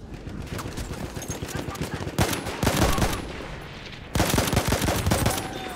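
Rapid semi-automatic Autoloading 8.25 rifle fire in Battlefield 1 cracks out in dense, close bursts with two heavier volleys, layered over constant battlefield din.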